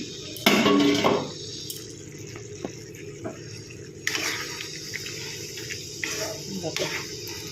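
A metal lid comes off a pot of ridge gourd and potatoes cooking in mustard-poppy seed paste, with a sharp clink and rattle near the start, then soft kitchen clatter and faint bubbling.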